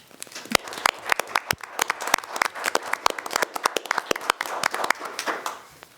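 Scattered hand clapping from a small audience at a county board of commissioners public business meeting honoring veterans, a steady round of applause of moderate loudness with sharp individual claps, no talking over it.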